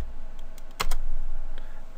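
A few quick clicks on a computer keyboard as a search term is entered, close and fairly soft, bunched around the middle of a short quiet moment.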